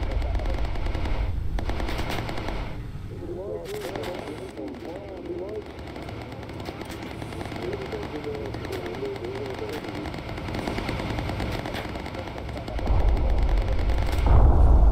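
Ball turret machine guns rattle in the Bomber Crew video game, sustained bursts of gunfire over engine drone with someone talking over the top, growing louder near the end.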